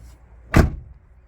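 One solid thud of a Renault Megane 2 car door being shut nearby, brief and loud against a quiet background.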